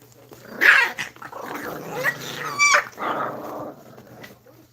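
Presa Canario dog growling and barking in short bursts, a rough throaty growl followed by a few sharp barks and whimpering tones, close and loud with quiet gaps between.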